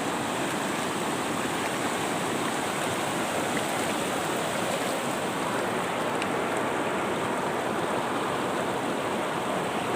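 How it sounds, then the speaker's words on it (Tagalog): Water poured over freshly dug soil in a gold-panning sluice after a storm and flood, making a steady, dense rushing and splashing that stays even and loud throughout, with no talk. "tapos binubuhusan nila ng tubig."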